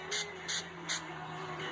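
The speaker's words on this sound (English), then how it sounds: "you spray it on there," Three short, quiet hissing bursts of Flex Seal sprayed from a can onto a hammer, evenly spaced, over a faint low background hum.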